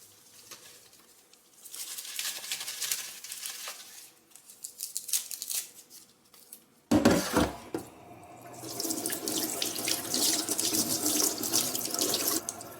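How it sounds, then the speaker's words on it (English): Tap water runs over houseplant roots in a sink, starting as a softer intermittent stream, then turning into a louder, steady gush with splashing after a brief clatter midway. "then I'm just going to give the roots a little rinse"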